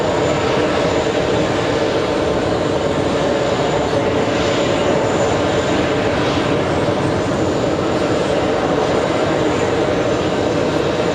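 A heavy airliner takes off at JFK airport, its jet engines roaring loudly and steadily for the whole stretch in a broad, dense rumble without any voices.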